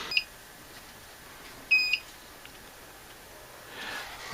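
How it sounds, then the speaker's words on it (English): A Night Owl CCTV DVR booting, giving short electronic beeps, two brief chirps spaced apart over faint background hiss, near and clear. "Okay, 4 beeps,"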